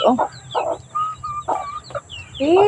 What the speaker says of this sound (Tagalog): yung manok ko, yung si Tweet